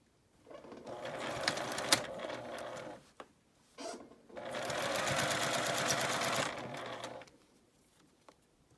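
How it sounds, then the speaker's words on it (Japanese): Sewing machine stitching a 1 cm seam around the top of an eco fur tote bag, running in two sustained bursts with a brief pause between, close and steady. "私は上をファーにした方が縫いやすいので、このようにして縫っていきます。"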